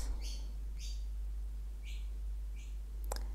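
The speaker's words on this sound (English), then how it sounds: "You've got quite a little bird chirping in the background." A small bird chirps in the background, four short bright calls spaced about half a second to a second apart, then a brief click, over a strong low hum; no one talks.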